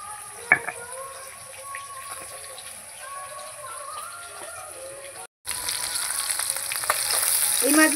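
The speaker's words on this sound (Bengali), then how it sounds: "এই মাছগুলো আমার ভাজা হয়ে গেছে," Fish sizzles in a wok-style pan during a rui/katla curry preparation, a moderate steady frying hiss with a brief cut midway, then louder sizzling and some clatter.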